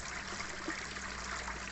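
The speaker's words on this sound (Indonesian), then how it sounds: "Jadi airnya terus keluar terus sampai habis" Water drains steadily out of a simple aquaponics bell siphon in an ebb-and-flow grow bed, a continuous soft trickling gush heard close and without pause.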